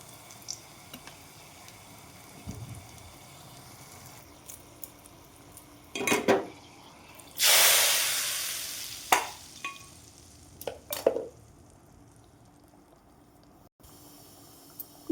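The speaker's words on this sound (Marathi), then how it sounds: "तडका लावायचा आहे मला त्याच्यासाठी मी तेल घेतलं हिरवी मिरची लाल तिखट" Green chilies and red chili powder hitting hot oil for a tempering, giving a sharp sizzling burst with stirring and utensil clinks before and after, no talking.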